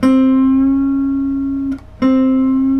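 A sustained electric guitar note rings out, cuts off briefly, then returns bent up a half step to a slightly higher pitch and holds.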